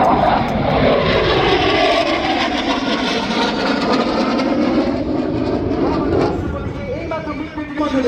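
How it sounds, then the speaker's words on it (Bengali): Military aircraft roar overhead in a flying salute at a national Independence Day parade, a loud sustained jet rumble sweeping past with a shifting pitch, plus some crowd noise. "শুধু মণ্ডলী এবারে দেখবেন flying salute to the chief guest."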